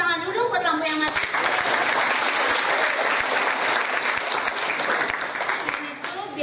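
Seminar audience on public speaking breaks into loud, sustained applause and clapping that fills the room, with brief voices at the start before the clapping takes over and tapers slightly near the end.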